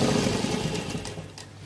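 An electric sewing machine stitches elastic, its motor running as a steady, close mechanical whir that eases off slightly near the end of the short burst.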